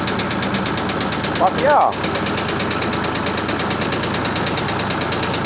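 Ford 4000 tractor engine running steadily with a constant mechanical drone and knock throughout, close and loud, while a person speaks briefly over it partway through.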